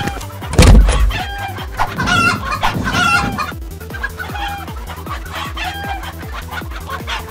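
Chickens in an animated cartoon cluck and squawk loudly, with a rooster-like crow near the start, then a steady run of repeated rhythmic clucks continuing to the end, with no talk.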